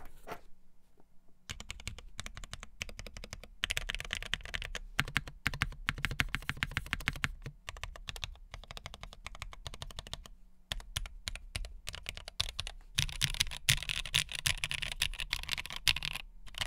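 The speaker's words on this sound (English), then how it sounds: "let me do another typing test" Steady bursts of typing on a modded custom mechanical keyboard, with quick clacky keystrokes in runs broken by short pauses, close and alone with no talking.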